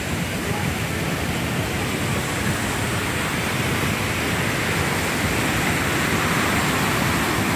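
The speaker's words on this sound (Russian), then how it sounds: "Река явно вышла из берегов." A steady, loud roar of a flooded river that has burst its banks near Manavgat, Antalya, continuous broadband noise with no pauses.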